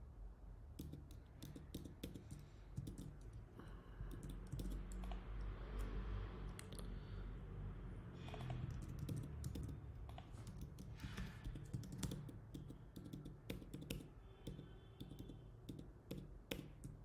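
Someone types steadily on a computer keyboard while editing a user profile in a Ruby on Rails app. A dense run of close clicking keystrokes sits over a low background hum, with no talking.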